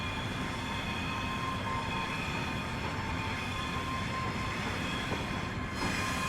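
A simulated Class 385 electric train runs along the Glasgow, Dunblane and Alloa route in Train Simulator Classic, giving a steady rolling rumble with sustained motor whine tones and a brief change near the end, without speech.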